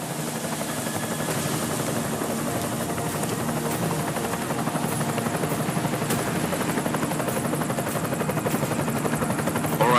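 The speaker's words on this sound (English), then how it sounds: "Enemy helo sighted." An enemy helicopter hovers in the video game Deus Ex: Mankind Divided, its rotor thrumming loud and steady throughout.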